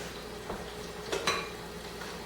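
Ground beef sizzles in a pan while a spatula chops and scrapes it, with steady frying hiss broken by a few sharp metallic scrapes and taps, close and moderately quiet.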